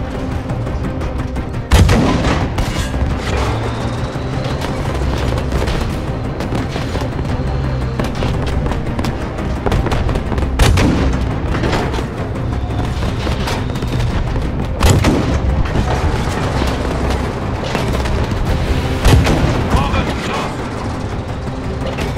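Tank cannon fire and battle noise in a World War II game, with heavy booms at intervals over continuous rumbling combat and scattered gunshots, loud and near, while voices shout orders in German.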